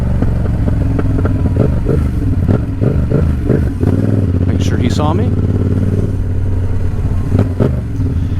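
A Yamaha R7 sport motorcycle crawls through bumper-to-bumper afternoon traffic, its engine droning loud and close with small revs, wind buffeting and clatter, while the rider talks briefly over it.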